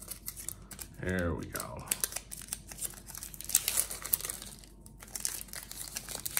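Scissors snip and crinkle through the wrapping of a trading card box, bursts of crisp cutting and crumpling close by while someone talks over it.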